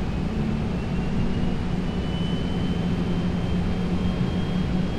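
Second jet engine of a Boeing 737-800 spooling up in a flight simulator, a steady loud roaring whine with a thin high tone holding throughout, no voices.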